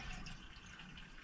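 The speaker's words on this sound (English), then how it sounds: "Might as well wash my hands while I'm at it." Hands are washed under a hot water tap in a Mercedes Vario camper conversion, a steady close hiss of running water splashing into the sink without pause.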